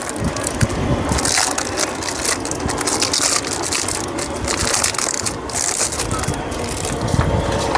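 A lump of shilajit, said to contain stone, breaks like glass with loud, close crunching and crackling that continues steadily throughout.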